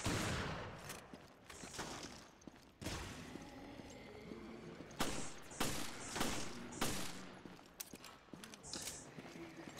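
Gunfire in the Resident Evil Revelations game: a rapid run of sharp, loud shots in bursts, with a few separate cracks spaced out over a busy background of game sound.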